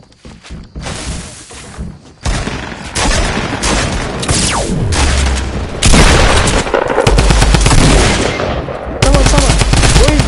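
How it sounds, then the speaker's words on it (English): Dense Fortnite gunfire, with rapid automatic bursts and heavy shots firing loud and nearly continuous in close-range game combat. "there's someone shooting at me"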